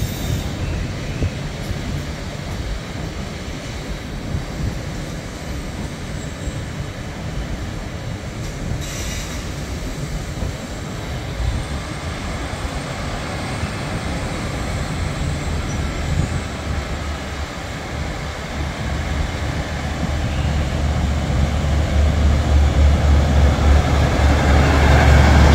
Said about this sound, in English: now we're going to see it leave